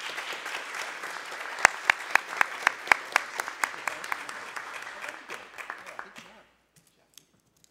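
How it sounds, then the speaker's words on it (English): A round of applause at a community college board of trustees meeting, moderate clapping from a modest group with a few sharp, distinct claps standing out, tapering off into near silence. "Please join me in a round of applause for Trustee Jeff Kellogg."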